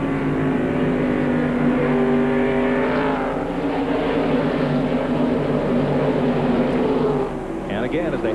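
Race cars roaring around Nazareth Speedway in a 1996 race, a loud steady engine drone with rising pitch sweeps as cars pass, under continuous commentary.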